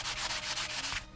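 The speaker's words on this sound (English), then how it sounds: "I'll just sand this down with a light sanding sponge." A light sanding sponge is rubbed back and forth over a small wooden wand, giving a steady, close, scratchy hiss in quick repeated strokes that stops just before the end.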